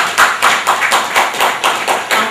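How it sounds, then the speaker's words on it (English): A small group claps in a regular, fairly close rhythm, about nine or ten distinct bursts of hand claps in quick succession, loud and alone. "We want to give him a special round of applause."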